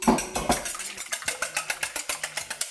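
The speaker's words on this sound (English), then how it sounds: "Whisk up my eggs." Eggs whisked in a bowl for an omelette, a fast run of light, evenly spaced clinking taps, close and fairly loud, with no talking.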